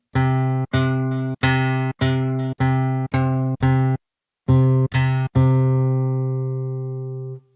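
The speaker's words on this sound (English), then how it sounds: "if you just want to hear that guitar pluck" A plucked, guitar-like synth tone from a Kontakt 8 guitar pluck preset plays a sequence of short notes, then a brief pause and a few more, the last ringing out.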